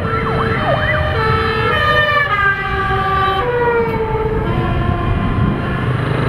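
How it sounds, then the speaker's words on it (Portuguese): Wailing sirens from a fire truck and an ambulance sweep up and down at night, several overlapping tones sustained and fairly loud throughout, with traffic rumble underneath. "Bombeiro, ambulância, olha só."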